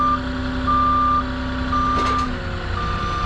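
Reversing beeps from a Moffett truck-mounted forklift backing out from under a load, a steady series of loud, evenly spaced electronic tones over a running engine hum, with no talk.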